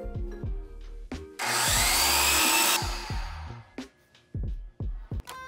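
A power drill driving 3.5-inch screws into wooden fence rails, with a loud sustained whir in the middle, short bursts of drilling before and after, and repeated knocks and thumps, close by with no talk.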